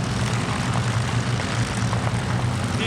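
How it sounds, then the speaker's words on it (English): A red-tailed P-51 Mustang flies overhead at an Oshkosh airshow, giving a steady, loud propeller and piston-engine drone that holds without fading, with no voices heard. "There is the red-tail P-51"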